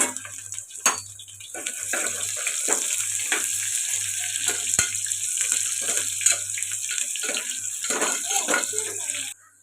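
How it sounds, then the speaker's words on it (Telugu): Onions and coarsely crushed garlic frying in a pan for an Andhra-style spinach dal, giving a steady, close hiss and crackle that runs the whole time beneath a person talking. "ఉల్లిపాయలు ఇలా ఫ్రై అవుతున్నాయి కదండి"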